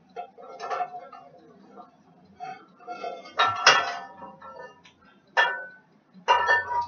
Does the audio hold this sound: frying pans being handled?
yes